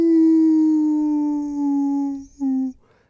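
A man imitates a wolf howl with his voice, giving one long, loud, steady tone that dips briefly and then ends in a short final rise.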